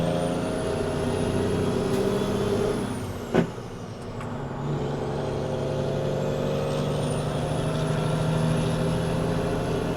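A semi truck with a 550 horsepower N14 Cummins diesel, heard from inside the cab, drones at a steady low rumble, broken midway by a sharp hiss of air brake release, then settling back into the even engine hum.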